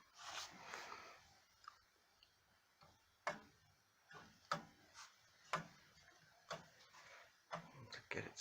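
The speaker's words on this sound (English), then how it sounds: "There's the inside of the clock." A Gideon Roberts Connecticut tall case clock from around 1800 ticks with sharp, irregularly spaced clicks, close and fairly faint, with some softer mechanical handling noise between the ticks.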